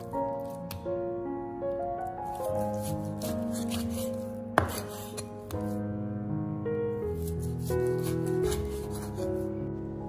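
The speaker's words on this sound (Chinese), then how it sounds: "然后再将它切成四四方方的正方形" A knife cuts pork belly into square chunks on a board, giving soft, irregular chopping taps beneath steady background music.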